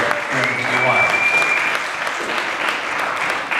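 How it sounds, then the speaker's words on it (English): Audience at a Bronx poetry and storytelling show breaking into loud, sustained applause, a thick wash of clapping from many hands with a few cheers and voices mixed in. "I think that deserves a round of applause"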